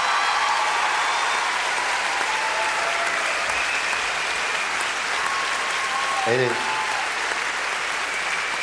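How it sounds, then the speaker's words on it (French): A concert audience applauds the singer, a dense, sustained wash of clapping from a large crowd that holds steady and loud throughout, with a brief voice breaking through near the end. "Donc merci de l'applaudir."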